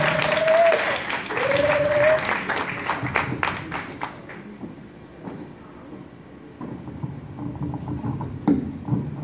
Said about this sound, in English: Please clap it up for Askia Torre right now.